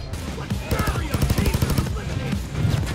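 Light machine gun fire in the video game Payday 2, rapid repeated bursts that rise and fall with a voice talking over them.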